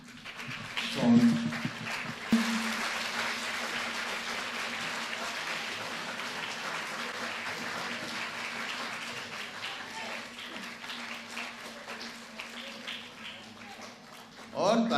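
Soft, sustained audience applause at a drama workshop welcoming guests, a diffuse wash of clapping that stays fairly low in level, with a steady hum underneath and brief louder knocks near the start and end.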